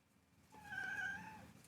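A kitten lets out a single long, drawn-out meow edging toward a howl, soft and close in a quiet room.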